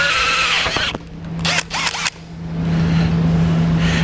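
A power drill bores a hole into the front end of a 2011 Honda CR-V near the condenser while fitting a tow base plate, several short whining bursts close by, stopping and restarting.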